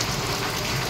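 Steady rain falls outdoors near a temple ground, a dense even hiss of drops on surfaces with no breaks and no voices.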